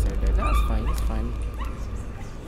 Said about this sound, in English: Bark. That's a dog.